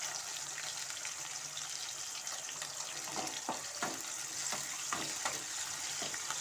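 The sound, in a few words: garlic curry ingredients sautéing in pan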